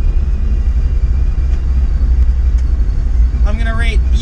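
An old muscle car of over 750 horsepower idles while warming up, a loud, deep, lumpy rumble held steady close by, with a voice speaking over it near the end.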